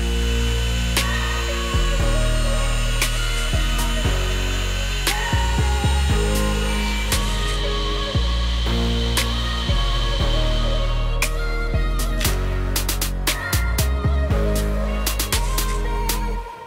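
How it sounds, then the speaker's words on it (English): A Dremel rotary tool fitted with a small drill bit bores holes in a leather dagger sheath, a steady high whine repeatedly spinning up and dropping as each hole is drilled, loud and close. "Then we'll take it over to the Dremel tool with a small drill bit in it and drill all these holes out"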